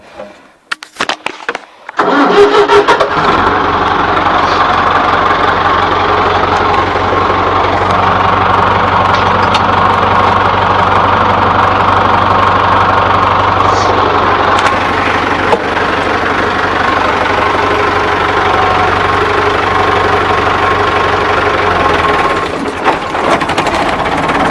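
A Case International 674 tractor starts after a few cranking bursts and settles into a loud, steady diesel idle with a knocking low rumble that carries on close by.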